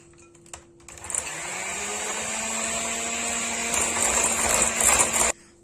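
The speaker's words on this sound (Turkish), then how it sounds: "yumurtalar köpük kıvamı alana dek e, çırpıcımla çırpmaya devam edeceğim" An electric mixer whisks eggs and sugar to a foam for a chocolate-sauce cake, a click followed by a steady high whirring drone for about four seconds that swells slightly before cutting off abruptly.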